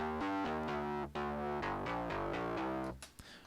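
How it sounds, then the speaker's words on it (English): Heavily distorted instrument played through effects in Reason software, a thick buzzing tone stepping through a sequence of pitches, loud and steady before breaking off near the end. "Let's say I had something, you know, really heavy in terms of distortion."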